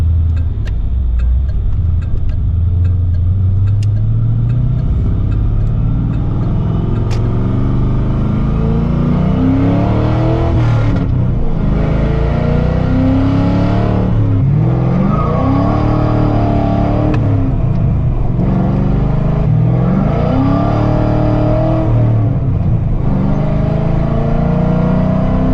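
A 1985 Chevrolet Silverado pickup truck drives with a loud, steady engine drone, the revs rising and falling through repeated accelerations and gear shifts, heard close and alone.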